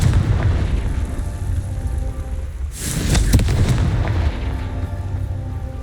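A Confringo blasting spell bursts into a loud, broad explosion midway through Hogwarts Legacy gameplay, set against a constant heavy low rumble of combat ambience.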